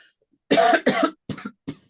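A woman coughs several times in quick succession, close up, in short harsh bursts separated by brief pauses.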